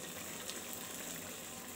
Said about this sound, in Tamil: குழம்பு கொதிச்சிருச்சு, தாளித்து ஊற்றிடுவோமா.